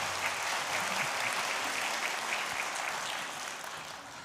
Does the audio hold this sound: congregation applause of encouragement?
yes